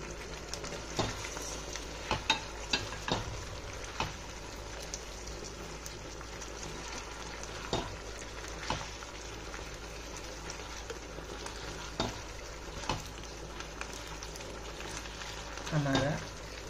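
Prawns fry in a plum-flavoured sauce in a pan, a steady low sizzle and bubbling with occasional soft stirring taps, faint and continuous throughout, with a brief louder stir near the end.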